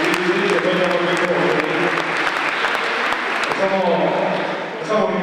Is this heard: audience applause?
yes